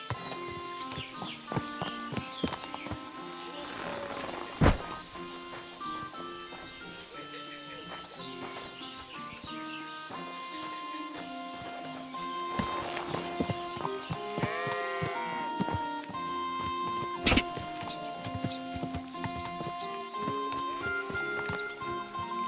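Kingdom Come Deliverance 2 game audio with horse hooves clip-clopping at a steady trot amid music and game effects, with sheep-like bleats and sharp hits.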